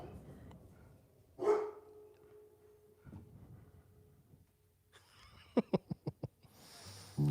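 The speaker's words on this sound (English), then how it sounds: "can you hear the dogs barking?" Dogs bark in the distance, faint and scattered, with one quick run of sharp barks near the end over a quiet room.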